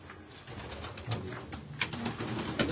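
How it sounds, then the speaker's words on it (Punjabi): Paired pigeons on a fancier's rooftop loft coo in soft, low, throaty calls, several short bursts close by against quiet background noise. "ਇੱਥੋਂ ਇਹ ਸਾਰੇ ਜੋੜਿਆਂ ਵਾਲੇ ਕਬੂਤਰ ਨੇ"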